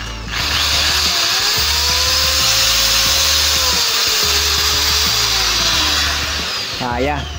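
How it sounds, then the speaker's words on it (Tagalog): An angle grinder runs loud and steady for about seven seconds in a low budget solar power setup, a continuous high whine with a brief rising whir near the end. "So try natin yung grinder muna, no? So yan, kaya niya."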